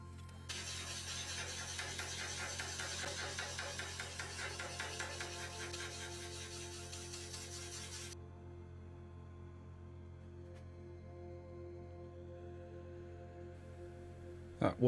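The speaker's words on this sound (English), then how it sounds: "That was the noise of my nice sharp chisel becoming very blunt as I cut through a piece of metal" A sharp woodturning chisel striking a hidden nail inside an alder live-edge bowl on the lathe, replayed in slow motion: a long grinding, ratcheting metallic scrape that stops abruptly midway, leaving a low hum.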